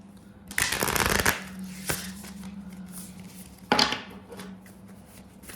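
A tarot card deck is shuffled by hand in two bursts of fast riffling flutter, a long one near the start and a shorter one later, with light handling sounds between and a low hum underneath.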